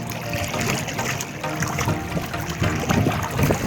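River water flowing past the bank near the Acumincum fortress ruins at Stari Slankamen, Serbia: a steady, fairly loud rushing and burbling that holds constant throughout, with no voices.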